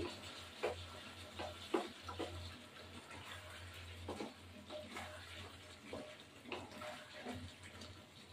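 Meat and potatoes are sautéed and stirred in a pan on the stove, giving quiet, close scraping and soft sizzling with irregular stirring knocks over a low steady hum.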